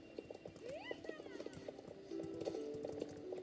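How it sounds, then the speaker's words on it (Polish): Hooves clop on a hard stable floor at a slow, uneven pace while a horse whinnies and people talk quietly in the background. "I jeden nasz konik jest. On tam jest na końcu."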